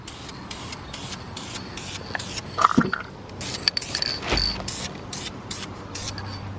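Clear coat sprayed from a rattle can onto BMW F30 brake calipers, a short hissing spray burst near the middle amid light handling noises and rubbing.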